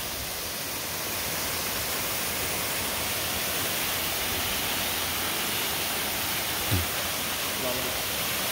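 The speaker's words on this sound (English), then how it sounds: "It's a nice waterfall here." Steady broadband roar of Lewis Creek waterfall in Sierra National Forest, continuous and fairly loud throughout with no breaks, and a brief faint voice near the end.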